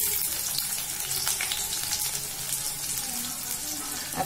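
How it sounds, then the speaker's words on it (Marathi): Chopped onion fries with cumin in a hot pan, giving a loud, constant hiss and sizzle that carries steadily throughout, close up and without pauses. "एकदम लाल नाही करायचा आपल्याला कांदा, थोडासा फ्राय करायचा आहे."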